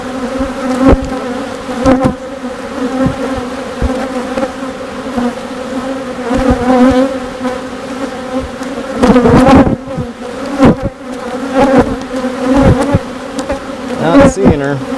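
Honeybees in an open beehive during a post-harvest nectar flow drone in a loud, continuous, close buzz, with tonal hum swelling and fading and occasional sharper wing flicks throughout.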